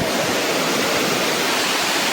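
Waterfall in Telangana: a dense, steady roar of rushing water, loud and close throughout, with no voices.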